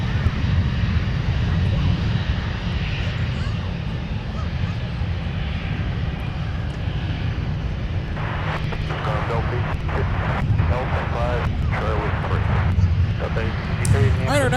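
An Envoy airliner takes off from runway 17 at Minneapolis-St Paul airport, a steady broad jet roar that persists throughout, with voices joining over the latter half.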